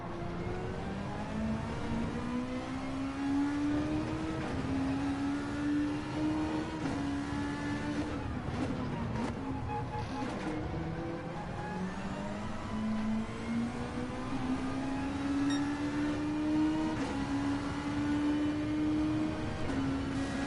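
An older Toyota Supra races around Daytona in a racing video game. Its engine drones loud and steady, climbing in pitch through each gear and then dropping at the shifts, again and again.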